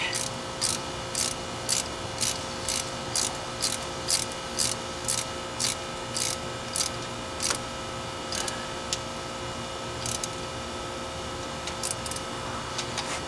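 A ratchet clicks in quick bursts of rapid strokes while tightening intake manifold bolts on a small block Chevy in a 1972 Nova, close and crisp, with short pauses between bolts and no talk.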